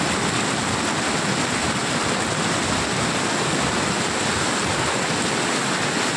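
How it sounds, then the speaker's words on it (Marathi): Floodwater rushing in torrential cloudburst rain near an old footbridge in Kankavli, a loud, unbroken roar of flowing water and downpour with no talk. "भरडावरून पाणी येत आहे आणि अक्षय येत आहे त्या पाण्यातून"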